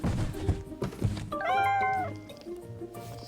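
Cats meowing in the Play Cats video game: one drawn-out, rising and falling meow stands out clearly over low game background sounds and soft thuds.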